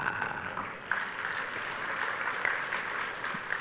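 Audience applause inside a church during a sermon, a moderate, fairly distant wash of clapping that continues steadily across the whole span with small swells.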